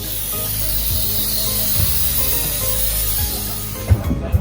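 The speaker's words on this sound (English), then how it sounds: "Now we're gonna spray the baking tray." Cooking spray hisses steadily onto a baking tray for a few seconds during homemade pizza prep, a close, continuous airy spray ending with a couple of small clunks.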